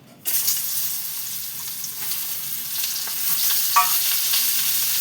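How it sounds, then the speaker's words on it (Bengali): Washed, cut pointed gourd tipped into hot oil, setting off a sudden loud sizzle that continues as a dense, steady frying hiss, close and without speech. "এই পটলগুলো আমি দিয়ে দিচ্ছি"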